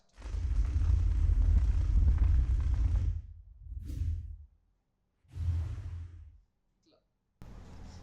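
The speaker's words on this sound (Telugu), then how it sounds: "వాల్కెనోస్ అంటే వాల్కెనో బ్లాస్ట్." A volcano blast effect from a Premiere Pro plugin pack plays as a loud, deep, rumbling roar for about three seconds, followed by two shorter whooshing bursts separated by silence.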